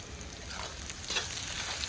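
Whole small onions (shallots) sizzle and fry in hot oil in a pan for mutton varuval, a continuous close crackle with occasional stirring scrapes.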